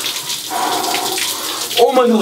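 Cold shower water running and spraying steadily at close range, a broad hissing rush, while a person gasps and exclaims under the spray.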